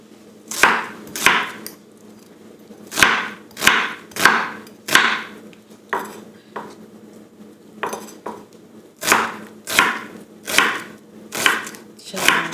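A knife chops onion on a wooden board in clustered bursts of sharp taps, with repeated rhythmic strokes separated by short pauses, close and distinct with no talk.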